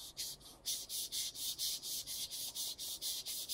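Steady rhythmic scraping of a 12-inch Sabatier carving knife stroked back and forth across a whetstone, about four strokes per second, close and even.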